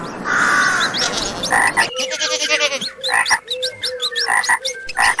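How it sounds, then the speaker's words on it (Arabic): A frog croaks repeatedly and loudly close by, giving a burst of rapid rattling calls followed by a series of shorter, rhythmic croaks. "ضفدع."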